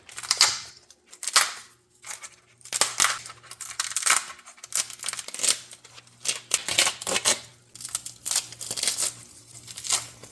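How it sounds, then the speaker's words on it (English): Dry loofah gourd skin being peeled by hand, a series of crisp tearing and crackling bursts at close range, irregular and fairly steady, with a faint low hum underneath and no talk. "let's see how easy it is to peel the loofah gourd first"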